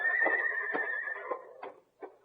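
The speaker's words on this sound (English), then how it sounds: "Those are the Clayton horses, all right." Several horses whinny and neigh in a radio drama sound effect, a loud, drawn-out call at the start followed by shorter snorts and whinnies spaced across the clip, with no voices.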